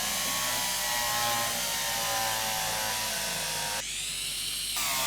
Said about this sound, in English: what we're going to do then is we'll drill that one